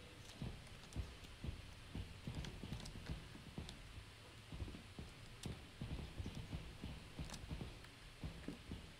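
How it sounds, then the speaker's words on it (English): Soft footsteps in a video game clop along in a steady, quiet rhythm of repeated light impacts, faint and without voices. "I'm hearing 4 sets of footsteps, and there's only 3 of us."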